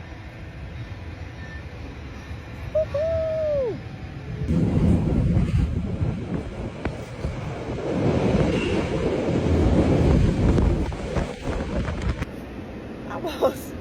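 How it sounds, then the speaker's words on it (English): A fast Matterhorn railway train roars through a small, dark tunnel, making a steady rumbling, wind-like rush close by. One rider whoops excitedly near the start. "That was a very fast train in a very small tunnel in the dark"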